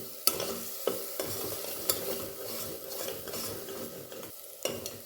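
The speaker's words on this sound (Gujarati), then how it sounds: "ગેસની ફ્લેમ સ્લો રાખીને હવે આને શેકાવા દઈશું. જ્યાં સુધી આનું તેલ છૂટું ના પડે ત્યાં સુધી આપણે એને શેકાવા દેવાનું છે." Masala with gram flour for a drumstick curry roasts in oil in a pan over a low flame, giving a steady soft sizzle broken by occasional scraping stirs of a spoon against the pan.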